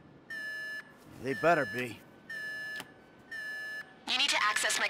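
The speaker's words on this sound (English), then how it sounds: "The alarm's been tripped." An alarm in the video game GTA 5 sounds as repeated, evenly spaced electronic beeps, alternating with short stretches of someone talking.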